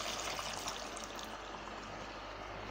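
A glass of hot water poured into a pot of mutton cooking with spices for palak gosht, a continuous soft splashing trickle over a sizzling background, steady and close.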